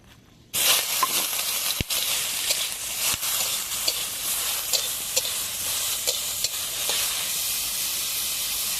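Oil sizzling loudly in a pan while vada pav is cooked village style, a bright continuous hiss starting abruptly with scattered pops and stirring scrapes throughout, no talking.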